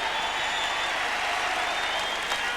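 A packed stadium crowd at the 1989 US Open tennis applauds Jimmy Connors, a dense, steady wash of clapping that stays loud and unbroken, with a faint murmur of voices beneath.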